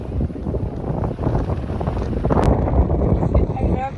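Steady wind buffets the microphone outdoors at Palma de Mallorca, probably near the water. It roars without a break for the whole stretch.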